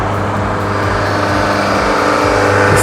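Diesel car engine idling steadily during DPF regeneration, a loud close continuous rumble with a low drone and no noticeable change in pitch.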